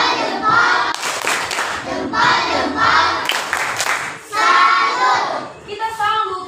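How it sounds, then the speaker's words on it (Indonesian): A class of pupils clapping together in a rhythmic cheer for a classmate, loud bursts of group claps and chanted children's voices in repeated phrases, close and lively. "Tepuk salut dulu untuk Akila."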